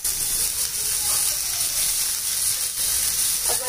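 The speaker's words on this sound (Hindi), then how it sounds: "हमें इन सारे वेजिटेबल्स को हाई फ्लेम पे ही कुक करना है, फ्राई करना है अच्छे से" Capsicum and other vegetables fry over a high flame for chicken patties filling, a loud, continuous hiss of sizzling that holds steady throughout with no voices.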